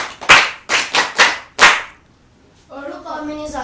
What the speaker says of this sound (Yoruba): bàbá oníṣègùn ẹ pàtẹ́wọ́ fún un